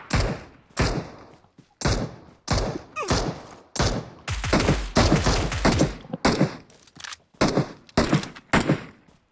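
Gunfire in a shooting video game, a rapid series of loud, sharp shots and bursts fired close by, in irregular clusters throughout.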